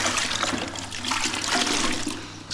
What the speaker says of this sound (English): So we're gonna come dip it in here